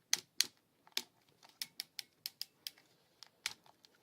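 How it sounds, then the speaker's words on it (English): Ratcheting joints on a Transformers Universe Leo Prime toy click as the elbow and shoulder bend, giving a series of crisp, close, separate clicks in an uneven rhythm, quiet and alone. "in his tiger mode is bending at the elbow, the ratcheting joints, also at the shoulder."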